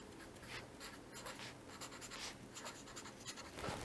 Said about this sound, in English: I will simply write down the transfer function